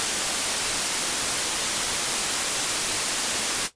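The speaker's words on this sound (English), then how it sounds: "So sometimes that white noise that I gave you an example of," Steady broadband white noise hisses evenly at a constant level for nearly four seconds, then cuts off abruptly.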